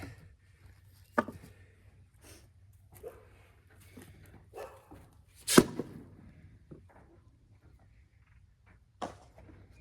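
A dog barks a few scattered times at a distance, faint and sporadic, with quiet gaps and some light knocks in between.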